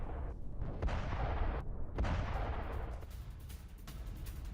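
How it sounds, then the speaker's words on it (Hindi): Explosions from Israeli strikes in southern Lebanon, a dense rumbling barrage of booms and crackling blasts rolling continuously for several seconds, distant yet heavy, with no speech. "आप देखिए एक साथ कितने धमाके हुए"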